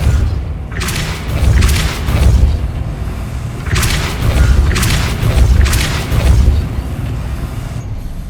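Depulso spell impacts in the video game Hogwarts Legacy: a series of deep, booming thumps, about six heavy hits arriving in uneven clusters with short rumbling tails, loud and close.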